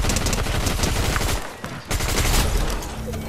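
Video game gunfire from players fighting in Fortnite: dense, continuous rapid shots and bursts fill the clip, briefly dipping midway before resuming loudly, with no talk over it.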